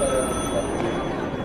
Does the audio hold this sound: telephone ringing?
yes